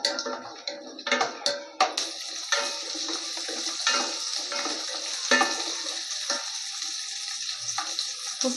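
Whole shallots and curry leaves fry in hot oil for mutton kulambu, giving a steady loud sizzle with sharp crackles and pops throughout.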